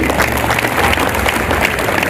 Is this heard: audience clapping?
yes